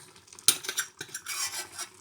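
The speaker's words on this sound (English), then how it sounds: "Let me make sure that I take all the lentils out of the other pan" Lentils scraped with a utensil out of one pan into a frying pan, a sharp metallic scrape followed by several softer scraping and clinking strokes against the pan, close and fairly quiet.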